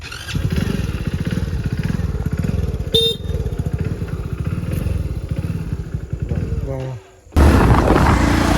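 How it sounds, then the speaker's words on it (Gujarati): A motorcycle engine runs steadily and close throughout, carrying a rider to a temple in the evening, then cuts out briefly before a loud burst of noise at the end. "બાઇક આવ્યો"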